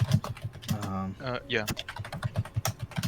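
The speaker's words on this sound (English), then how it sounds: "Somebody is typing loudly." Loud clattering keystrokes on a computer keyboard during a live tabletop role-playing game session, tapping in quick irregular bursts under and between people talking.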